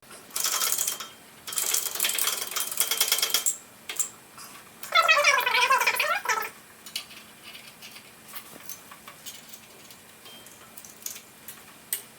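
Old wrist pin pressing a new pin into a custom three-cylinder 1200cc crankshaft, giving loud metallic ratcheting and grinding bursts in several spells, then fading to faint clicks and quiet handling.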